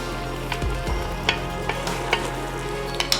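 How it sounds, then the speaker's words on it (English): Beef being stirred back into a stroganoff in a hot pan: a steady sizzle with scraping strokes and soft clacks of the spoon, close and continuous, with no talking. "Just gonna give it a quick mix."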